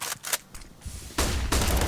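Gunfire in Counter-Strike on the Dust2 map during a pro match, a few sharp shots early followed by a louder, denser burst of firing toward the end.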